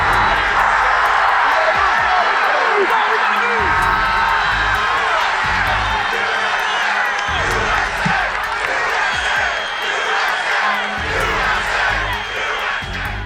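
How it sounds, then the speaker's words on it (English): A large crowd at a Trump campaign rally roars in a loud, sustained cheer with whoops and yells, continuous for many seconds, with a voice speaking over it. "This prompted a loud cheer from the crowd."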